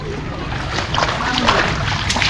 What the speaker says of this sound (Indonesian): air ini nih langsung air dari sungai teman-teman, bukan sekedar air dari selokan-selokan